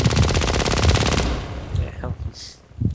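Rapid machine-gun style bursts from a gun turret in a video game ring out loud and dense for just over a second, then stop, leaving quieter game effects and brief tones.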